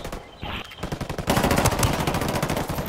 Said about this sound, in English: Under a lot of fire over here.